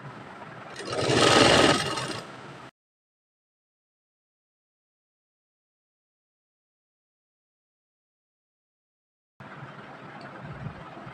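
Sewing machine stitching folded piping on a baby girl's dress, a short run of fast whirring, then several seconds of silence, then another steady run of stitching.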